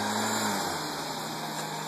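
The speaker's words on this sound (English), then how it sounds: "She's revving a Nissan's engine." Nissan car engine running at a low, even drone throughout, fairly faint and steady with no clear rise in pitch.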